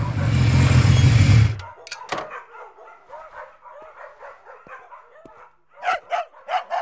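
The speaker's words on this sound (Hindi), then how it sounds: "काफी नस्ल के कुत्ते हैं आपके पास।" Several dogs of different breeds bark and yip in a comedy film scene, a burst of noise giving way to scattered short barks, whimpers and repeated yaps, loudest near the end.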